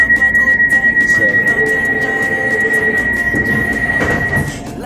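A London Overground train runs with a steady, loud rumble and rhythmic wheel clatter, a sustained high whine running over it, all close by with no talking.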